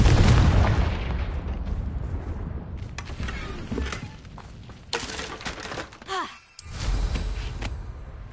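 The Confringo fire spell explodes in Hogwarts Legacy with a heavy, rumbling boom that decays over several seconds, followed by softer thuds and a brief swell of low rumble near the end.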